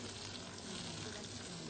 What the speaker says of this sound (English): It's ticking away nicely, that very gentle sizzle.